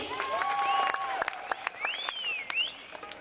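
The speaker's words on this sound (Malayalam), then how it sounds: "ഗിറ്റാർ, ബേസ് ഗിറ്റാർ കൈകാര്യം ചെയ്തുകൊണ്ടിരിക്കുന്ന നമ്മുടെ ഷിബു ചേട്ടനും ജാക്സൺ ചേട്ടന് നല്ലൊരു കൈയടി." An audience at a Mappilappattu music stage show breaks into applause for the guitar and bass guitar players, a fairly distant wash of clapping with cheering whistles and scattered sharp claps rising and falling.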